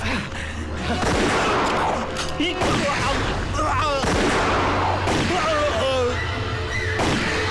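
Sharp gunshots crack out several times amid chaotic, shouting voices and dramatic background noise, loud and close.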